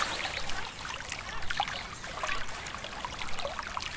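Steady river flow with a working watermill in a medieval RPG, an even broadband rush of running water trickling and splashing continuously throughout, moderately loud with no talk.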